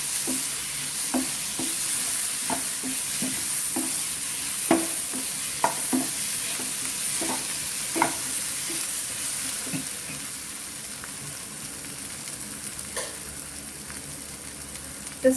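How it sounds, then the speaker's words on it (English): Chicken keema masala sautéing in a pan with gram flour, a steady sizzle under repeated scraping spoon strokes as the mixture is stirred, close and fairly loud, with no talking. "Sauteing it so that this gram flour will mix everything together."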